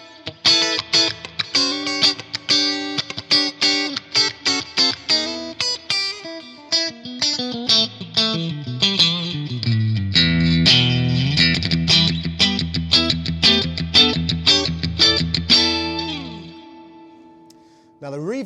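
Electric guitar played through a Brunetti Singleman amp head with Acutonic spring reverb and a touch of delay, starting with rhythmic plucked chords, then sustained overdriven chords and lines ringing out loudly before a brief stop.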